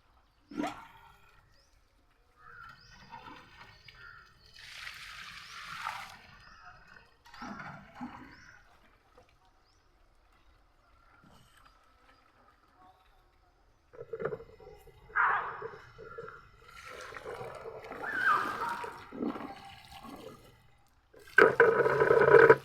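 Water splashes and pours in intermittent bursts onto plants in a rooftop garden, with gaps of near silence between, ending in a louder rush of splashing.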